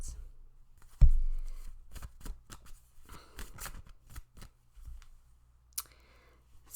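Tarot cards riffled and shuffled in a quiet room, one sharp thump followed by a run of crisp papery flicks and slides, softer shuffles trailing off near the end.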